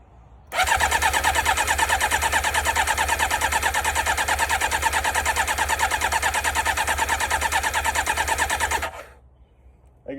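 A motorcycle engine starts on choke and settles into a steady, loud, buzzing idle for several seconds before cutting off abruptly.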